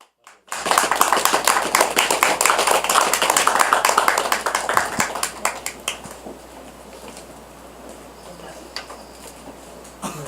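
An audience at a church-style gathering claps to welcome a speaker, loud, rapid applause that fades after the midpoint into sparse, lighter clapping.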